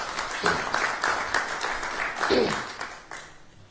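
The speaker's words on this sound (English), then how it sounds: "Give Representative Love a round of applause." Moderate audience clapping at a Tennessee State University gathering, an uneven patter of hands with a few louder bursts, heard together with a voice speaking and a brief vocal exclamation.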